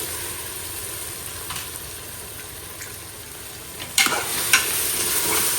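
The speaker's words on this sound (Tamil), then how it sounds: "இப்போது நல்லா பச்சை வாசனை போக வதக்கணும்." Tomatoes and biryani masala fry in oil for mutton biryani, a steady close sizzle with a couple of sharper spatula scrapes near the end.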